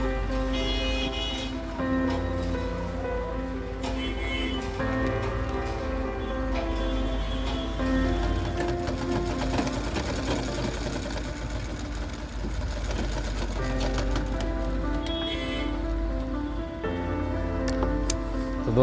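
A sewing machine stitches a coat in a steady, continuous mechanical whir with a faint rhythmic ticking. It runs close and unbroken for nearly twenty seconds, under a soft tonal background, with no talk.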